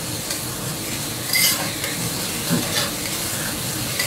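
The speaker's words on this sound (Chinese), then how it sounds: "一样炒大葱，放一点盐" Scallions stir-frying in a hot wok with a little salt, giving a steady, dense sizzle with scraping stirs throughout and no talking.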